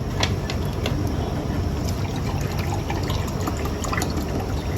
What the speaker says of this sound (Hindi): 2 कप पानी डालना है।